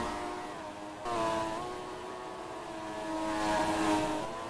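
Alpine race car engine in a racing game during the Malaysian Grand Prix, a steady high whine that dips and climbs through revs and gear changes, moderately loud with no talk.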